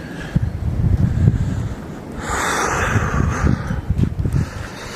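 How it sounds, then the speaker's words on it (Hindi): Wind blows outdoors at a home in Germany during heavy snowfall, a loud rushing gust that swells midway, with rumbling buffeting against the microphone throughout. "हवा चल रही है।"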